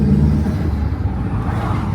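A Mk1 Audi TT 225 (8N) running hard under load, with a steady, loud, low engine roar and exhaust drone that holds for two seconds with no break or voices.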